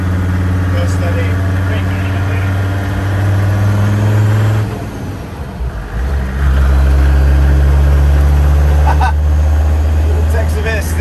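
A 1957 Series 1 Land Rover diesel engine running loud and close, a steady low drone that dips briefly mid-way before rising again into a stronger, higher-revving hum, with a few faint clatters over it.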